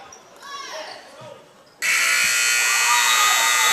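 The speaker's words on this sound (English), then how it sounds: "that buzzer means that's going to be it here" A loud, sustained electronic game-ending buzzer at a girls' basketball game blares abruptly after a moment of crowd murmur and continues steadily to the end.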